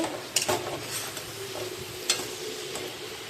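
Catfish and spices for a Bengali maagur macher jhol being stirred in a pan, a steady moderate sizzle with a few sharp spatula scrapes and clinks against the metal.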